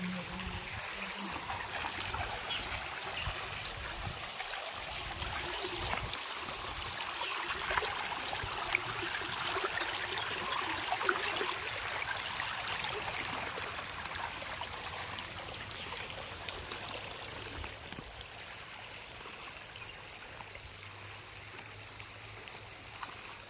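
Continuous rushing and trickling of rainwater flowing across a road after heavy rain, steady and fairly close, with faint indistinct sounds in the background.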